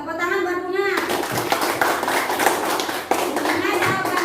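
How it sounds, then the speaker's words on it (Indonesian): Children in a classroom clap their hands together in a lively burst of many small claps, with brief children's voices mixed in around them. "Tepuk tangan buat Bunga"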